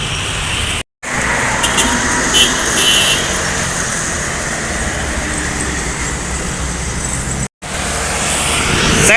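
Adex Trans buses roll past on a road, a loud, steady rush of engine and tire noise that holds for the whole stretch with only two brief gaps.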